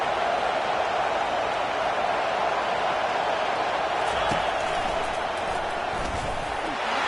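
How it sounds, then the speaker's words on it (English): A college football stadium crowd cheers as a steady, dense roar that never lets up, heard from a distance with a commentator talking over it. "And the crowd really making some noise now"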